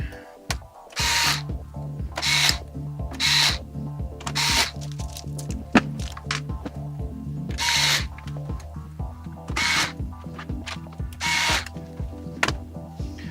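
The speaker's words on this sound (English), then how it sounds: "So we're right to screw down. Put it on level 1." A power screwdriver on its lowest setting driving screws to mount a motherboard in a Fractal North PC case, giving repeated short whirring bursts with clicks and ratcheting pauses between them, close and clear, with no talking.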